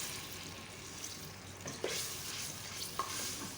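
Onion paste fries in the same oil used earlier to fry onions. A soft, fairly quiet, continuous sizzle is broken by a couple of light stirring scrapes.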